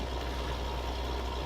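A tractor in Farming Simulator 19 runs at a low rumbling idle, a continuous even drone with a soft pulsing undertone and no voices.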